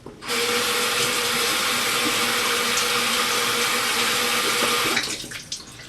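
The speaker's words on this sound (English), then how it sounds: "after I get it good and clean, I rinse it again." Tap water runs steadily while a makeup brush is rinsed under it, a loud continuous splashing rush that starts abruptly, holds evenly, then cuts off near the end into a few faint drips and handling sounds.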